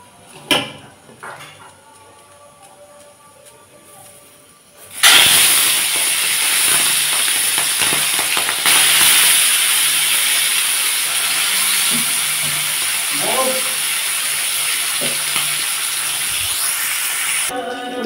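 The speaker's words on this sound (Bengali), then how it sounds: "গরম হয়ে গেছে, চিংড়ি মাছটা ভেজে নেব।" Prawns go into hot oil and set off a loud, sustained hiss and sizzle that holds steady for over ten seconds, after a few seconds of quieter clinks and handling.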